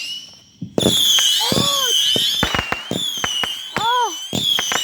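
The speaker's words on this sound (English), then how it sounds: "Is that a firework?" A whistling firework shrieks with a gliding high tone, then a series of sharp bangs and crackling bursts follow, loud and close, with a couple of rising and falling whistles among the pops.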